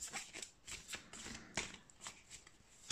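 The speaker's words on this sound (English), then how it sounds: "now I'm gonna shuffle some tarot cards" Tarot cards being shuffled by hand, a quick series of soft riffling flutters and taps close up, irregular bursts over a few seconds.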